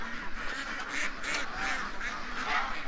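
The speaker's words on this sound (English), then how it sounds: "Oh, these geese, man." Geese honking repeatedly at moderate distance amid a dense, noisy outdoor background, the calls overlapping in a continuous din.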